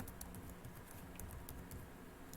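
Quick, quiet clicks of typing on a computer keyboard, a light irregular patter of keystrokes over a hissy background.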